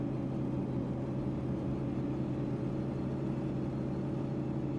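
A steady, low engine drone from a Kenworth W900 truck in American Truck Simulator holds at an even level throughout, heavy and continuous, labouring under load, with no voices.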